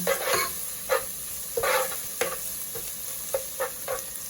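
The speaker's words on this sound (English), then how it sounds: "I'm going to add 2 cloves of garlic" Garlic cloves and browning onions fry in a pan, a steady sizzle broken by several sharp scraping stirs of the spatula at irregular intervals, close and alone without talk.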